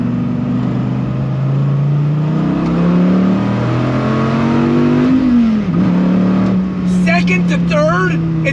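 Dodge Viper ACR engine pulling hard with a steady rising drone, dipping briefly as a gear change comes through, then climbing again; a person talks over it inside the car.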